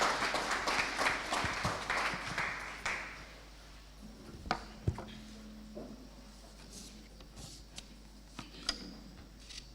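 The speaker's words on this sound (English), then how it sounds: "Let us give him a round of applause as he comes to the stage." A university lecture audience gives brief applause for a keynote speaker walking to the stage, the clapping fading after a few seconds into scattered taps and quiet room noise.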